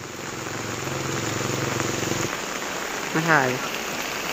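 Rain falling steadily on an outdoor market, a dense hiss throughout, with an engine idling underneath at first and a brief voice near the end.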